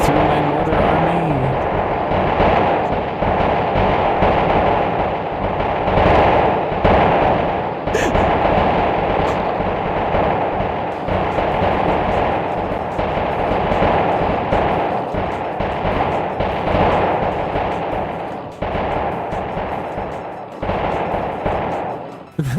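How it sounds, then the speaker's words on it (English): Mortar artillery fire from a Godot-made strategy game booms continuously in dense, overlapping blasts, loud and close throughout with barely a pause, sounding like sustained gunfire and shelling. "They can't break through my mortar army."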